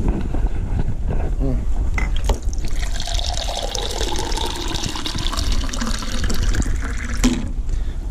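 Water being poured for cooking crawfish étouffée, a steady splashing and trickling fill close by that continues for several seconds, with a few clanks of cookware.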